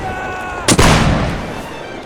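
Musket fire in the Napoleonic-era battle game Mount & Blade: Napoleonic Wars, a single loud, close shot cracking out of a steady background din and trailing off in a long, rumbling decay.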